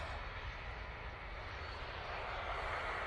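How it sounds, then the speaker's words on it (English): EasyJet Airbus A320neo airliner at Manchester Airport, its engines giving a faint, steady, distant jet rumble with a slight rise toward the end, no voices over it. "Here we go with that flight to Faro,"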